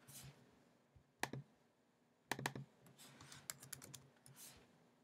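Computer keyboard typing heard close and quiet, two short bursts of rapid keystrokes followed by a longer run of scattered individual clicks.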